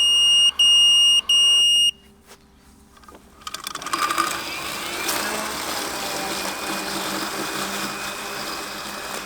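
A Mammotion Luba 2 robot lawn mower, a 4x4 GPS model, sounds a few sharp electronic beeps. Its motors then whir steadily outdoors.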